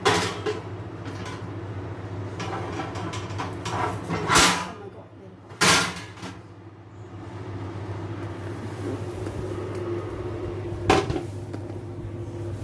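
A lasagna bolognese goes into the oven, marked by two sharp bangs of the oven door a second apart, with kitchen clatter and a voice talking around them.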